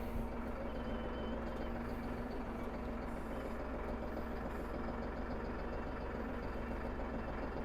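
A small tractor engine idles with a steady, even low rumble, constant and moderately close throughout, with no other sounds over it.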